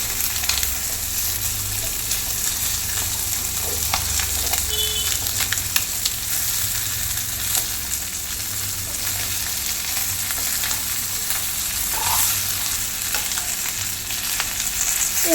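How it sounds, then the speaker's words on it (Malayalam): A fish head fries in oil in a pan on the stove, a loud, steady sizzle that goes on for the whole stretch, close by and with no one talking. "അപ്പുറത്തെ സൈഡ് നല്ലപോലെ മുരിഞ്ഞിട്ടുണ്ട്"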